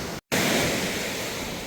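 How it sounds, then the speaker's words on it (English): Ocean surf on an Adelaide beach on a very hot day, a loud continuous wash of breaking waves with a brief dropout near the start, then steady roaring noise. "I don't think I've seen waves since I've been here. Not like that, crashing away."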